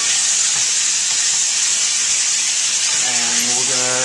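Bacon and chopped tomatoes sizzle steadily in a pan, a constant loud frying hiss throughout, with a brief stirring scrape and a faint voice near the end.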